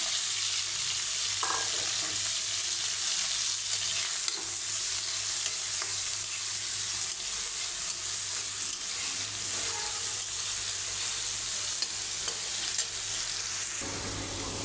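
Chopped onion frying in oil in a wok, a steady loud sizzle lasting throughout, with occasional faint stirring clicks and a low background hum that drops off near the end.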